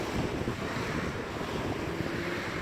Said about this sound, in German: der Wind nervt brutal